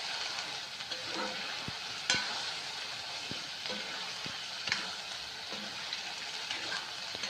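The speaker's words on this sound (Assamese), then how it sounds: "আৰু 2-1 মিনিটমান ভাজি ল'ব ভালকৈ।" Mutton with two bay leaves frying in a pan, a steady broadband sizzle throughout with a few sharp utensil clicks and scrapes now and then, fairly close and moderately loud, no talk.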